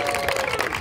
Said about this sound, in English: give him some round of applause